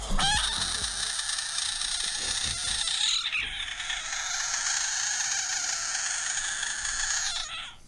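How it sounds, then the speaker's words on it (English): A loud, continuous shrill frog call, harsh and piercing, sustained for several seconds with a brief shift midway, no voices. "That's a screaming frog."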